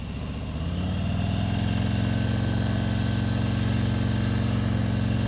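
A motorcycle engine held at raised revs while the clutch slips during slow-speed U-turn practice, a steady mid-pitched drone that swells after a brief lower start and then holds close and even, with no talk.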